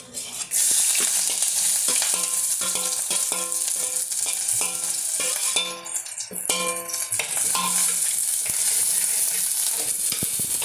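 Sliced onions sizzle and spit loudly in hot oil with popped mustard seeds for a Goan fish curry, with a steady frying hiss and a spoon clattering against the pan as it is stirred.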